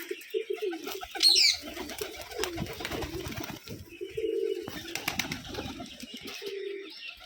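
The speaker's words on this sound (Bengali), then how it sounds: "মাশাআল্লাহ কবুতরগুলো দেখুন" Giribaz pigeons at a farm in Rajshahi coo in soft repeated low phrases from nearby, mixed with brief chirps and a short flutter of wings, with light background activity throughout.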